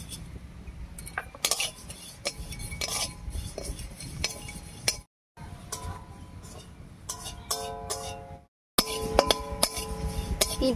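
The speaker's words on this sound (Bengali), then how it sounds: "এবারে শুকনো খোলায় তিলটা ভেজে নেব।" Sesame seeds dry-roasting in an empty karahi over a stove, stirred with irregular metallic scrapes and clinks against the pan, moderately close, broken by two brief silent gaps.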